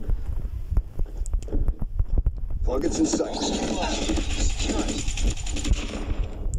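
Rapid gunfire from a fast, accurate weapon in the mobile shooter Call of Duty Mobile, a dense sustained burst filling the second half, loud over low rumbling game noise and talk.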